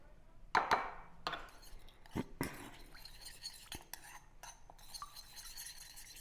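A spoon stirs chili flakes, caster sugar and lime juice in a bowl, giving a few sharp clinks and scrapes against the dish, then softer intermittent taps and stirring, close and quiet with no talk.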